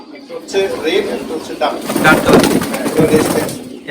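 American Helmet pigeons coo on a pigeon farm, giving soft low throaty warbles that repeat close by while someone talks over them.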